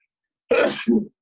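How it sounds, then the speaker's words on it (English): A single sharp, close sneeze in two bursts, a louder breathy burst followed by a shorter clipped one, against silence. "I hate sneezing."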